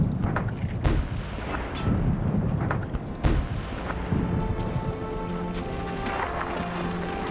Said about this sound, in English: the command rings out, "Rapid fire." The first tank rears upwards. Those following halt. One direct hit after another.